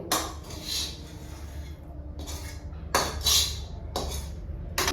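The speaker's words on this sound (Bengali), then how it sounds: "দিয়ে কড়াটাকে একবার মেজে নেবো" Metal kadai being scrubbed clean by hand in a home kitchen, giving a few bursts of scraping and clattering against the pan, close and fairly quiet, with pauses between strokes.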